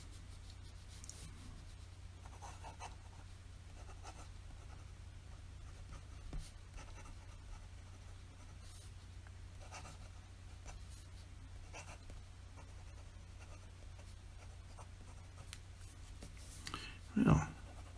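Fountain pen with a wet nib writing on paper with J. Herbin ink, faint soft scratching strokes close up, steady and quiet against a low background hum, with a brief louder bump near the end.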